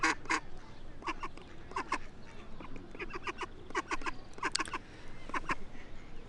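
A mother duck quacks in rapid, raspy bursts, repeated clusters of loud nasal calls close by over a steady outdoor background, with short gaps between volleys.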